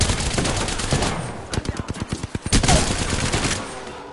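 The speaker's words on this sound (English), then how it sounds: "Contact with hostile. Must be shot at. Shooting." Rapid gunfire from the Apex Legends battle royale video game, a dense burst of sharp automatic shots in the middle of the clip, set against steady ambient game noise with faint speech.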